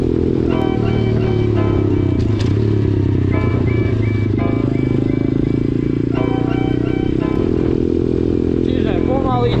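A 125cc pit bike running in on rural field roads, its small engine droning steadily and close, with gear changes shifting the pitch throughout and a rider talking over it.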